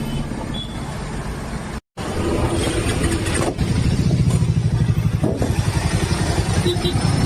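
A motorcycle engine runs while the bike is stopped on a road, a steady loud rumble with a brief dropout near the start, then continuous clattering engine noise with faint voices mixed in.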